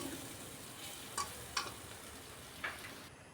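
Faint, steady frying hiss as spices are sautéed in a pan for a potato masala, with a few soft spatula taps scattered over it.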